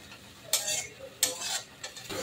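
Onions sizzle in a pan while a utensil scrapes and stirs them in three or four quick, close strokes, the frying hiss continuing between them.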